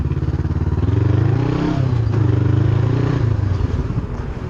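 A Honda CBR 500R parallel-twin motorcycle rides along with its engine droning loud and close, the pitch climbing and dropping as the rider shifts up and down through the gears, no voices.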